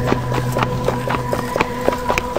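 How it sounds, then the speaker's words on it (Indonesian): Galloping horse hooves as a sound effect, a rapid steady rhythm of repeated clopping beats over a constant low hum, fairly loud, with no talk. "terdengar seperti suara kaki kuda yang saling mengejar"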